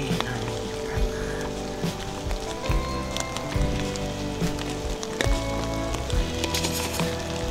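Steady rain patters on an umbrella close by, with dense irregular drops and occasional heavier taps, continuous throughout.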